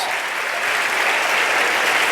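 Sustained applause from a church congregation, a steady, loud wash of many hands clapping with no gaps, full and close throughout.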